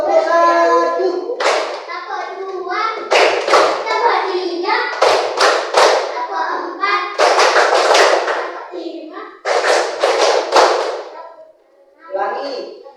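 Children in a third-grade classroom perform a clapping game, bursts of sharp hand claps in rhythmic groups separated by short pauses, close and loud, with young voices chanting between the claps.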